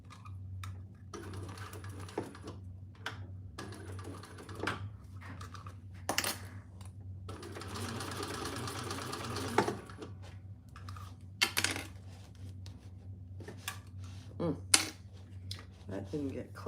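Sewing machine running a quarter-inch seam, one burst of steady, quiet whirring of a couple of seconds set among clicks, taps and handling noises, with a person talking.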